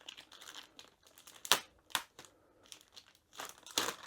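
A protective plastic cover is peeled off a diamond art canvas: close crinkling and crackling in uneven bursts, with a few sharp louder rips separated by brief pauses, no talking.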